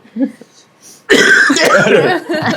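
A person coughs loudly and harshly up close, a burst of several rough coughs after a brief quiet moment.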